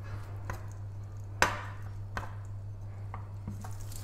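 A knife cuts down through a folded sheet of yufka dough on a board, giving several short, soft chops spaced irregularly over a steady low hum, with the strongest cut near the middle.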